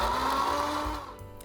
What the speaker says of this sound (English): Go ahead and top your blender or your food processor,